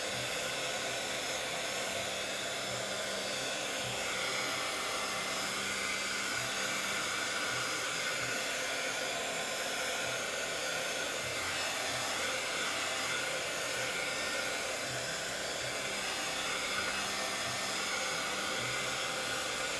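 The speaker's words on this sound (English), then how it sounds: "hair dryer is the best" A hair dryer blows steadily and loudly at close range, drying mixed-media journaling work in one unbroken roaring hiss with no talking.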